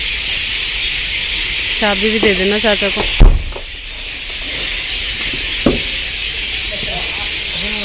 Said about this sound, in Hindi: चिड़ियाओं की आवाज कितनी आ रही है। पेड़ पे चिड़ियाएं बैठी है बहुत सारी।